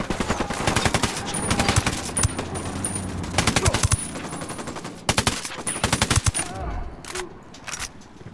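Rapid bursts of automatic gunfire in the video game Ghost Recon Wildlands, loud and close, coming in repeated clusters with short pauses between them before tapering off near the end.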